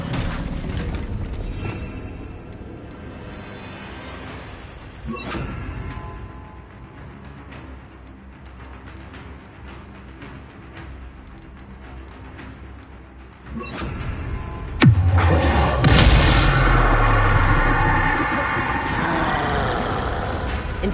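The Bombarda explosion spell goes off in Hogwarts Legacy: a sudden loud blast near the end erupts into a heavy, roaring rumble after a stretch of quieter ambient game sound.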